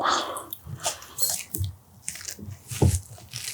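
Close bite into a large homemade meatball sandwich in soft bread with meatball sauce: a few crunchy, squishy bites and chewing sounds in quick bursts, with no talking.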